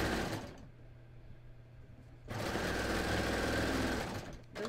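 A sewing machine stitches the hem of a skort in two fast, steady runs, humming and rattling up close with a short quieter pause between them.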